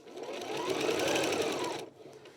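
A sewing machine stitches a Cuddle fabric infinity scarf in one short, even whirring run of under two seconds, close and moderately loud, then stops.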